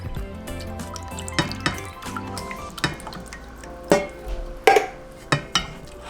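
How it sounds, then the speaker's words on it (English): Evaporated milk poured into a thickening nacho cheese sauce in a pan, with scattered drips, splashes and soft clinks of a pot and utensil, close and intermittent, with no talk. "we're going to add the remaining of the evaporated milk"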